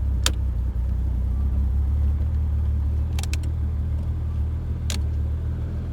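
A Toyota Supra engine idles steadily with a low, even rumble and no talking, broken only by a few sharp clicks.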